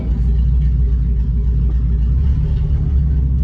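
An old Mercedes-Benz 300SEL 6.3 rolls along with a steady, loud, low engine rumble that holds evenly throughout, with no clear stop heard.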